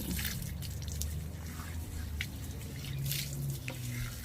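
Pet being bathed with water, with steady dripping, splashing and trickling throughout at moderate level, alone without talk.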